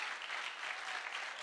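A seated audience applauds a panel at a startup investor day, steady dense clapping held at an even level for the whole stretch, with no voices over it.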